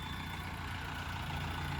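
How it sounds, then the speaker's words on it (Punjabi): A 4x4 tractor engine runs at a steady low rumble, close and continuous, with no talking. "ਹੁਣ ਆ ਟਰੈਕਟਰ ਪਾਰ ਲੰਘਾਵਾਂਗੇ"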